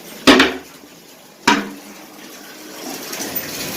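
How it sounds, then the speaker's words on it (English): Two hollow knocks sound in a bathroom, then shower water starts running for a dog's bath, with a soft, steady spray rising gradually at close range. "Okay, we're going to get a shower"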